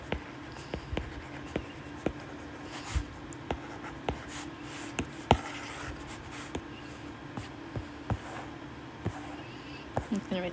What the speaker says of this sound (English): I'm going to write this here